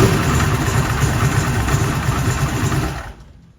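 A car engine just started on a 16V lithium battery runs at a rough, loud idle close by, then cuts off abruptly near the end, leaving near silence; no talk.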